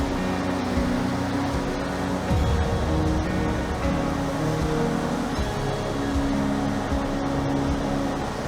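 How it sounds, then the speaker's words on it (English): Big ocean surf at spring tide under a full moon, heard from cliffs on the South African coast, as a continuous loud roar of breaking waves with no talking. "you can hear the ocean is so big today"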